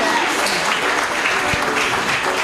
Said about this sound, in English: Keep clapping for her.